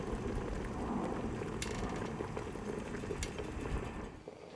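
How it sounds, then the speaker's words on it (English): A pan of thick jam bubbles and pops at a steady rolling boil, close and low in volume, with a faint clatter now and then. "Whilst the jam is boiling"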